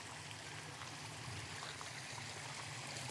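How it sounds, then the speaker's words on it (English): A stream trickles softly in the Huntington's Japanese Garden, a faint, steady, even wash of water that continues without break and with no voices. "you may hear the stream just trickling in the backdrop."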